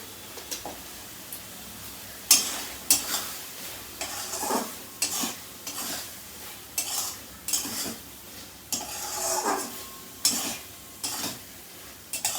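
Malabar spinach with prawns frying in a pan, a spoon or spatula stirring it with repeated scrapes and clinks over a soft sizzle, close and fairly quiet, with no voices.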